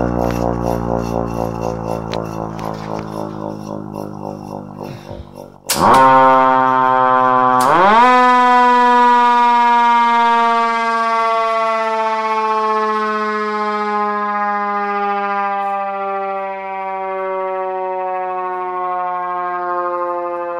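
A Federal Q2B mechanical siren starts with a low pulsing rumble, then spins up with two sharp rises into a loud, steady wail that slowly falls in pitch as it winds down, heard alone and close.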